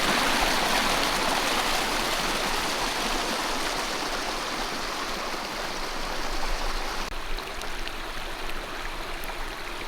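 Fast-moving stream water flows steadily and continuously nearby, a dense rushing wash with no voices, holding an even level throughout with a slight shift partway.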